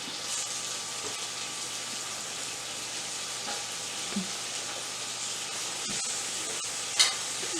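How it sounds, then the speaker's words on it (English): Chicken sizzles on a Power XL smokeless grill, a steady close hiss of frying with a few faint clicks and one sharp tap near the end. "I am going to go ahead and flip it so that it'll start cooking on the other side"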